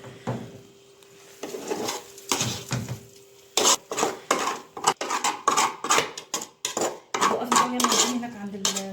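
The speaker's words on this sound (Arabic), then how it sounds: "هنقل بس الرز هنا في الحله." Rice being transferred into a cooking pot in a home kitchen while preparing stuffed vegetables, with repeated close scraping and clinking of a utensil against metal, sharp clatters of dishes and cutlery, and faint stirring rustle between strikes.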